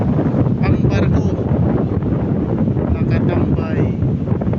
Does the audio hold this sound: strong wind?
yes